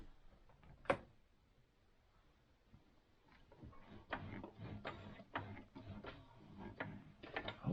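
A Singer Advance sewing machine runs quietly with its small crankshaft turning, giving a soft, steady train of faint mechanical ticks and clatter after one sharp click near the start.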